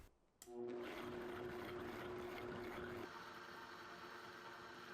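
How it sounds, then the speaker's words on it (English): A blender blitzes homemade barbecue sauce, starting abruptly after a brief quiet moment and then running as a steady, faint whirring drone that eases slightly partway through. "Pour it into a blender and give it a quick blitz until it's as smooth as you like."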